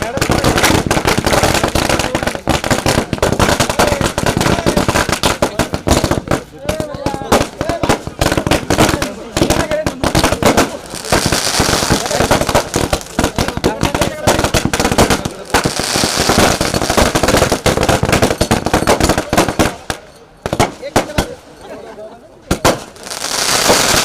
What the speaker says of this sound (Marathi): इथे फटाक्यांची आतिषबाजी सुद्धा होते